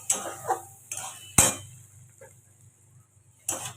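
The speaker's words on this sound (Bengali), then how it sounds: "ডিম, টমেটো, পেঁয়াজ সব কটাকে একেবারে ভালোভাবে আমি এটাকে মিশিয়ে নিলাম।" Egg, tomato and onion stirred together in a bowl, a few sharp clinks of utensil on the bowl with quiet gaps between, near and isolated.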